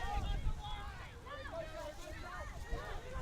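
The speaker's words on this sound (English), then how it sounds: "Big gusts of wind coming through at the moment." Strong wind gusts buffet the microphone at an outdoor field match, a low, uneven rumble that swells and fades under a commentator's steady talk.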